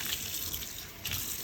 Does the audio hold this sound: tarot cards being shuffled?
no